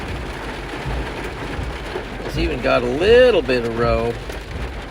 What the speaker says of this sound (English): Here's the storm that's hitting us now.